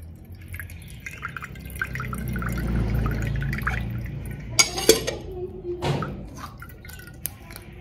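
Coconut water trickles and drips into a vessel at home, a faint liquid sound with a few louder splashes and clinks near the middle.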